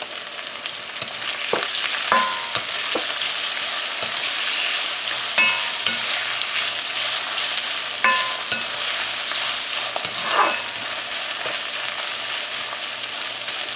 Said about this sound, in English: So we just fried up our onions for about 30 seconds.